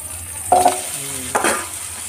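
Beef and shrimp are stirred in a hot pan for Korean rice cake with kimchi, giving two short clattering, sizzling bursts against a steady background hiss.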